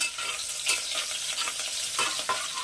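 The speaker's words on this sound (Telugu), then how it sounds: "ఆనియన్ వేసి కలుపుదాము" Onion frying in hot oil for a mutton and brinjal curry, a bright close sizzle with steady stirring and a few sharper scrapes of the spoon.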